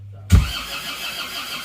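Isuzu Panther diesel engine cranks with a sharp low thump, then settles into a rough, faint mid-pitched running clatter, heard alone at close range.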